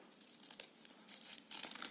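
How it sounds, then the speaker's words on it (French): Quiet, close paper rustling with soft crisp snips of scissors cutting through folded sheets, building slightly toward the end, with no voices. "si je prends ma paire de ciseaux et que je coupe"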